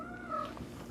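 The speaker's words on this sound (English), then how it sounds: "I'm sure you can all hear our cat in the background narrating." A cat meows faintly in the background of a kitchen, one short drawn-out call in a quiet room.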